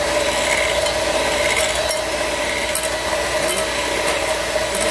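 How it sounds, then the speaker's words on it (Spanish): An electric mixer beats cake batter for mini cakes, a loud, steady, close motor whir with a faint rattling edge running unbroken throughout. "ahora vamos a empezar a batir."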